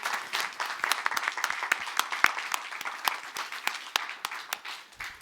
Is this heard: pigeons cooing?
no